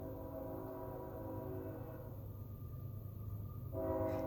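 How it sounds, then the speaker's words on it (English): A train a couple of blocks away rumbles steadily in the background, a low continuous drone with a tonal horn-like hum that swells louder near the end. "Can you hear the train in the background?"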